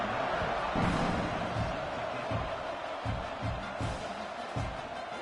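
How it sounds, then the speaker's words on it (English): A stadium crowd in the College Football 26 video game keeps up a steady, dense roar, with repeated low thumps and swells rising out of the buzz. "this crowd is buzzing after that last score"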